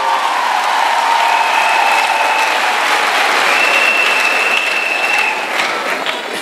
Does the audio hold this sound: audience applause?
yes